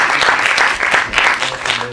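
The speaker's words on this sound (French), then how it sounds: "Il faut applaudir pour ces gars," Audience applauding in a cinema after a film screening and debate, dense steady clapping from a crowd filling the whole stretch, loud and close, with no voices over it.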